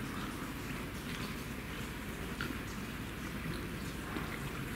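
Steady, dense rainfall hissing continuously outdoors in Venice, a broad wash of noise with scattered drops and no pauses.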